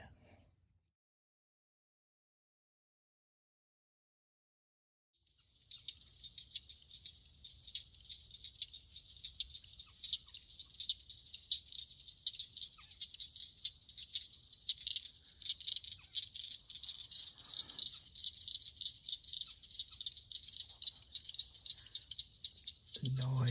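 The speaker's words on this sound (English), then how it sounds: "Being serenaded by the frogs." Frogs call in a Florida swamp, a dense, steady high-pitched rattling chorus that begins abruptly after several seconds of silence and continues throughout, with faint low ambience underneath.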